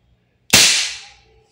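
A single sharp crack from an Umarex HK416D Gen 3 airsoft gas blowback rifle, loud and close, with a short decaying tail and no voices.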